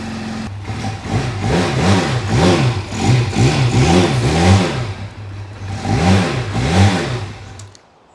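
A Braaap ST400 cafe racer motorcycle starts and warms up on its first start, its single engine idling close and loud and being blipped again and again into short rising and falling revs.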